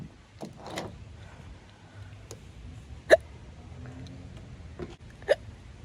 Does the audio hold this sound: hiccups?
yes